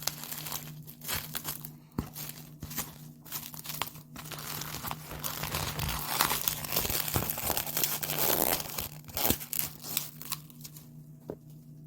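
Plastic sushi packaging crinkles and crackles as it is opened, a steady run of close, fairly quiet rustles and crisp crunches with no talking.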